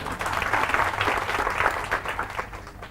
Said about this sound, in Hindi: इनके लिए तालियां बजाओ एक बार